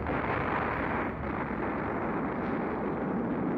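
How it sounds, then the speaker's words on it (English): A massive explosion in the video game Robotics;Notes Elite: a loud, sustained broadband roar that rumbles on for several seconds with no voices over it. "the sound of a massive explosion erupts from behind me"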